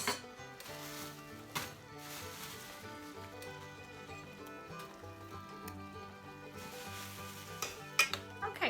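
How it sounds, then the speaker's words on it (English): A spoon stirs raisins into creamy rice pudding in a pot on the stove, with soft scraping and gentle bubbling under steady background music. "Stir that around"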